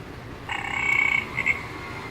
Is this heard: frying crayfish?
no